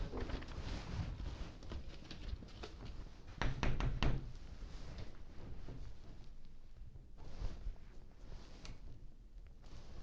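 Knocking on a door inside an office building, a scattered run of firm thuds and taps with a louder cluster midway, heard alone over room noise.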